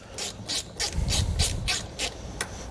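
A 10 millimeter wrench turns a nut off a battery terminal stud in a vehicle, giving a run of about eight short metallic ratcheting scrapes at a steady rhythm, close and moderately loud.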